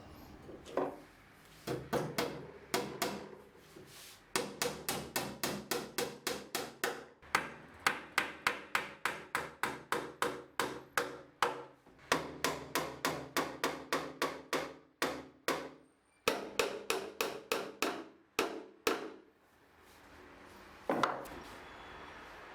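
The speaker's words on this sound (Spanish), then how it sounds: "Pongo una buena cantidad de pegamento, ubico en su lugar los 2 listones que había pegado previamente y los clavo." A hammer drives nails into glued wooden slats on a traditional wooden tool chest, landing long runs of sharp, evenly spaced blows with brief pauses between sets, close and loud with no talk.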